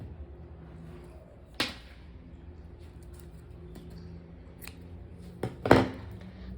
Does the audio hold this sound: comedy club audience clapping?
no